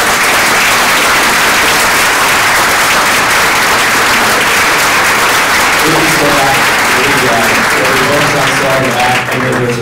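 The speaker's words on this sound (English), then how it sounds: "So please, round of applause for them." Sustained audience applause for two panelists at the close of a discussion, dense and steady throughout, with a voice starting to speak over the clapping in the last few seconds.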